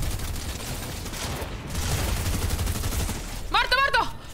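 Gunfire in the video game Fortnite: a dense crackling fusillade of rapid shots through the clip, ending in a sharp, warbling burst near the end.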